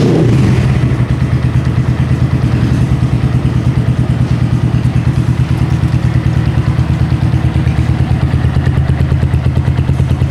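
A Keeway CR152 motorcycle fitted with a BR mini bottle exhaust pipe starts and settles into a loud, close, rapid, even thumping idle that holds steady throughout.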